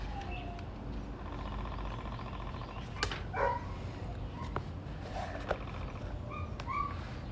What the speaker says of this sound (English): the dog is being loud